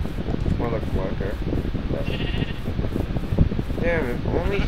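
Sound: sheep bleating in the video game Minecraft

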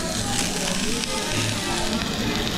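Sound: steak sizzling on hot plate

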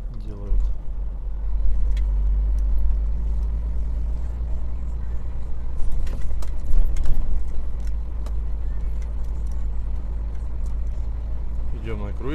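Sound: car driving on cruise control at 15 km/h

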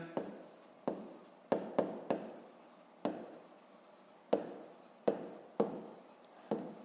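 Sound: writing a maths exercise by hand

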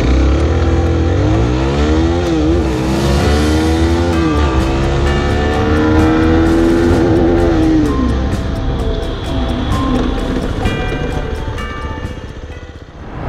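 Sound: Zontes ZT310 R motorcycle accelerating 0 to 100 and braking

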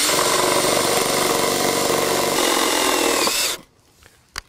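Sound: cordless screwdriver driving self-drilling screws into metal joist

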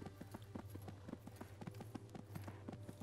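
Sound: horse hooves while riding, from the video game Disciples Liberation

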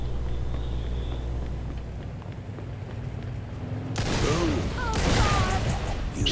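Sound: explosion and gunfire in video game Mafia II

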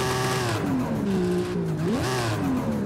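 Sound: tuned Ford Mustang engine revving with turbocharger, from a video game

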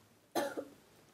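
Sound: cough

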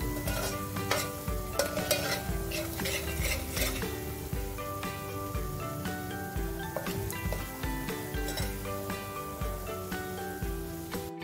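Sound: crabs frying in oil

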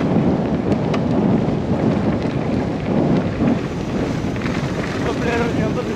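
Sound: wind

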